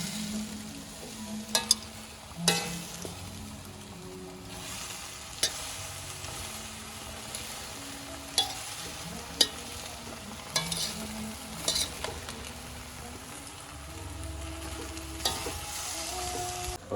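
Food is stir-fried with oyster sauce in a pan, a continuous soft sizzle with repeated scraping and tapping of a utensil against the pan at an irregular pace.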